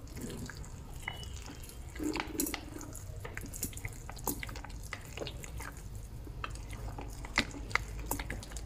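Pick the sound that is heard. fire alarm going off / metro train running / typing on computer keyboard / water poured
water poured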